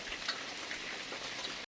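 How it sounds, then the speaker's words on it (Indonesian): Heavy rain pours at a leaking mountain hiking post shelter on the trail up Mount Sumbing. It hisses steadily and close, with scattered drops ticking on the surface and a sharp knock just before the end. "ini hujannya deras banget ya"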